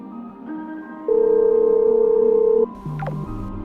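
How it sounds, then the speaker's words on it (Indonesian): A phone call rings out unanswered, with steady electronic tones and a long sustained beep sounding clearly and closely, and no voices present. "Coba aku telepon pacarku."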